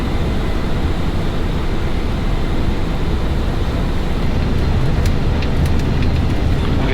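Air Hong Kong Airbus A300-600F freighter engines at takeoff thrust, a loud, continuous broadband roar heard from inside the cockpit, steady throughout with faint clicks near the end.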